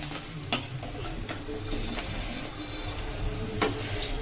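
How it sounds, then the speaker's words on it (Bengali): Coriander leaf pakoras frying one by one in hot oil, a steady close sizzle with occasional stirring clicks and faint utensil taps, no talking. "এখানে কিন্তু আমি ধনেপাতার পকোড়াগুলো আর কি ভেজে নিচ্ছি এক এক করে"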